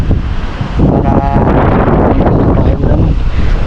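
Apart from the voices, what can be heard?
strong wind from typhoon Basyang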